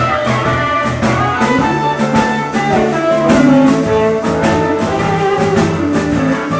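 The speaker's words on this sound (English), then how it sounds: "pretty typical standard second position blues harmonica lick" A second-position blues lick is played loudly on a Hohner blues harp harmonica, with bending, wailing notes over a dense, rhythmic backing that runs throughout.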